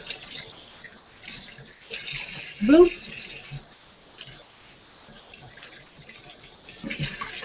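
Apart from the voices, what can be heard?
tap water rinsing raw chicken in sink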